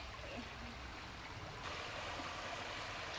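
Cold river water flowing steadily past in a village stream branching off a river, a soft continuous rushing and trickling wash with no voices.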